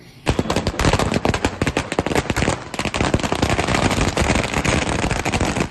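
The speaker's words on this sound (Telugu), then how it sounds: "రోడ్లపై టపాసులు కాలుస్తూ విజయోత్సవ సంబరాలు చేసుకున్నారు" A long rapid string of firecrackers bursts nearby on a road during an election victory celebration, loud sharp cracks crackling in fast irregular bursts without pause.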